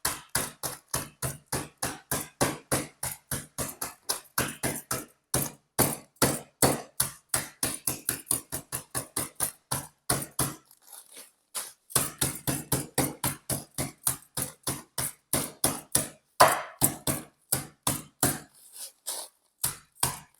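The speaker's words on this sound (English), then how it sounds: "Now, what I'm going to do is hammer it." Gingerbread biscuits sealed in a bag are pounded repeatedly on a kitchen counter, a long run of sharp, evenly spaced thuds that come close and loud, broken only by a few short pauses.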